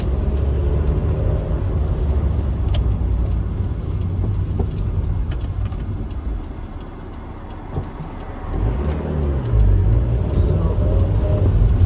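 A 1998 MGF driving along, its engine and road noise forming a steady low rumble heard from inside the cabin, swelling briefly toward the end as the car accelerates.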